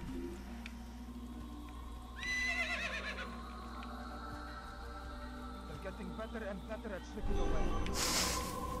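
A horse in Assassin's Creed gives a neigh over a steady game ambience, with a hissing burst near the end.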